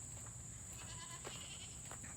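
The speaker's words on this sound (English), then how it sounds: "our goats." Goats kept in a backyard farm pen bleat in a few short calls, moderately near, over a steady background hiss and low rumble.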